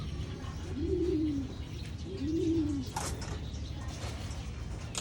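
Jansen racing pigeons give two soft, low coos in a row, close and fairly quiet, over faint background noise and a few small clicks.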